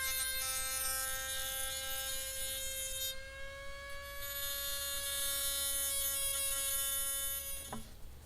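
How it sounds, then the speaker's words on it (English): A Dremel rotary tool runs steadily at high speed while evening out the rough, free-handed edge of a homemade custom knife, giving a close, continuous whine that dips in pitch partway through and ends with a brief clack. "I used a Dremel tool to try and even it out"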